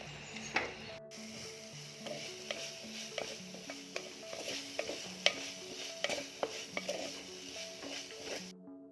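A spoon stirs and scrapes fish curry with curry leaves and black pepper in a pan, with repeated clinks and taps, over a soft sizzle and a steady low hum.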